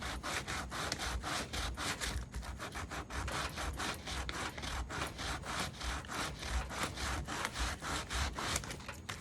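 Sandpaper is rubbed gently back and forth over a wooden Dollar Tree pumpkin, a steady close rasping of quick, even strokes running throughout without any voices.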